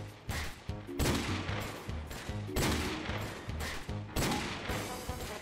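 Desert Eagle pistols firing in a Modern Warfare custom game match, a run of sharp, punchy shots arriving in quick clusters with short gaps between them, moderately loud and with no talk over them.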